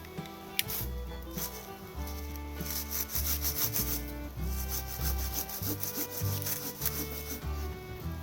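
Handsaw cuts back and forth through a wooden walking stick close to the ground, a steady rhythmic rasping of repeated strokes, near and fairly loud.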